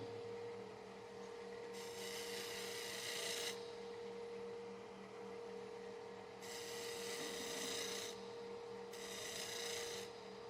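A woodturning tool cuts wood from a shallow bowl spinning on a lathe. Under a steady motor hum, three bursts of hissing, scraping shavings come and go.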